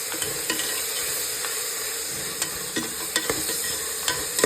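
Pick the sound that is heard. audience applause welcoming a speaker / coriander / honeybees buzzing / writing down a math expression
coriander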